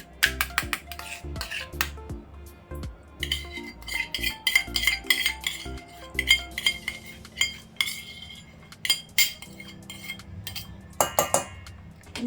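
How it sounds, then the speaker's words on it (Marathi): A spoon mixes chicken seekh kebab mixture in a bowl, with repeated close metallic clinks and scrapes in an irregular rhythm over soft background music. "आता हे चांगलं ना एकजीव करून घ्यायचं"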